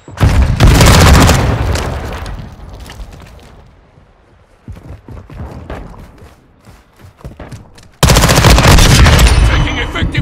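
Loud bursts of automatic gunfire and booming blasts in a Call of Duty: Modern Warfare 2 Team Deathmatch, with dense volleys at the start, scattered shots in a quieter middle stretch, then a sudden heavy barrage near the end.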